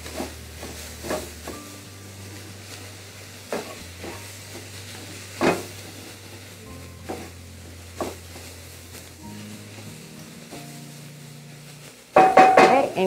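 Minced onion sizzles in a Dutch oven on a stovetop, a low hiss broken by scattered scrapes and clinks of stirring. A louder clatter comes at the very end. No one speaks.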